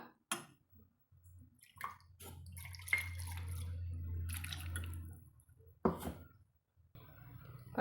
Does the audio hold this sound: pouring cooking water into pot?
yes